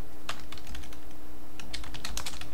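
Rapid clicking keystrokes on a computer keyboard, close and clear, in short bursts with brief pauses between them and no talk.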